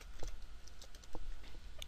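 Keystrokes on a computer keyboard while entering an affidavit form in Word 2010, heard as scattered, irregular clicks over about two seconds, fairly quiet and close, with no talking.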